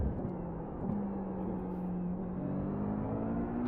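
A racing car engine in a video game endurance race at the Red Bull Ring drones steadily at moderate volume, its pitch climbing gradually as it accelerates, with no voices over it.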